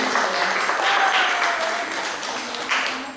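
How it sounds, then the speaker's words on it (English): Applause from an audience at a Sunday school summer graduation, a steady, moderately loud wash of clapping from a group that slowly fades toward the end. "Or should we clap now? We should clap now."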